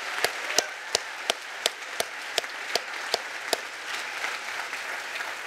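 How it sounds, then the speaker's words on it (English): A single person's hand claps at a student welcome event, about a dozen sharp, evenly spaced strokes over a faint room murmur, tapering off toward the end. "That has to have a round of applause."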